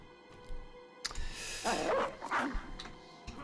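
A dog barks in a video game, a short burst of barks and yips in the middle of the clip over faint game ambience.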